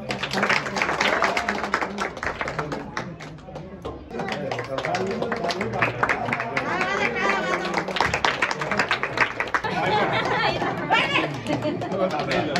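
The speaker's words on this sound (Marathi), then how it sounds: "टाळ्या वाजवा" A crowd chatters loudly at a Nashik temple celebration of Ram Navami while scattered clapping and bursts of applause mix in, dense and close throughout.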